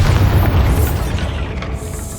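The Bombarda blasting spell in the Hogwarts Legacy video game goes off as a loud, close, deep boom with a rumbling tail that slowly fades out over about two seconds.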